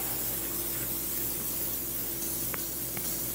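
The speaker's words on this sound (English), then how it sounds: "So I'm just gonna start over on the left side, give a little spray." Cooking oil sprays steadily inside the cooking chamber of a new Pit Boss pellet grill during seasoning, a continuous close hiss with a faint low hum beneath and a couple of light taps near the end.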